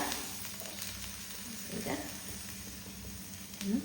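Buttermilk batter roti with onions frying in a pan gives a soft, steady sizzle and crackle, faint and close, with no talk.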